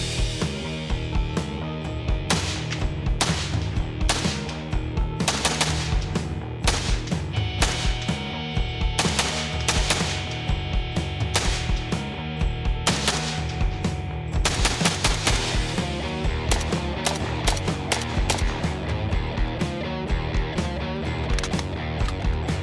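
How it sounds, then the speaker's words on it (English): An AK47 rifle fitted with Aimpoint, Tapco, Magpul and Damage Industries mods fires continuously outdoors: loud, rapid, repeated sharp shots in quick strings throughout, with no talking. "would you mind if I stopped talking for just a minute or two and did a little more shooting?"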